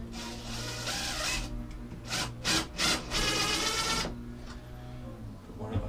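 A screw being driven into scrap pallet wood while building a Halloween coffin, with a power driver whirring in several bursts over a steady mechanical drone and a gritty, rasping wood bite.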